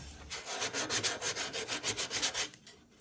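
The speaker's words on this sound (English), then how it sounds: "I'm going to get a block of sandpaper, not even a file, and I'm just going to use a block to make that transition perfect" A block wrapped in 120-grit sandpaper rubbing over wood on a refurbished cradle, about a dozen quick rhythmic back-and-forth strokes close up, then stopping.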